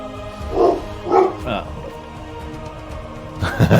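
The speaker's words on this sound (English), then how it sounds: "He's disciplining the dog." A dog in a room gives a few short barks and yips, then a louder burst at the end, with people talking around it.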